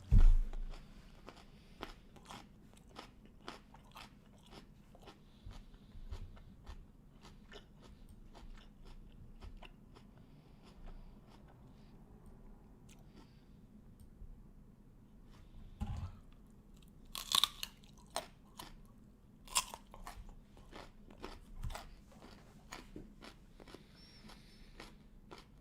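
Crunchy snack being chewed close to the microphone, with steady crisp bites and crunches repeating in an irregular rhythm over a quiet background, and occasional louder cracks, with no talk.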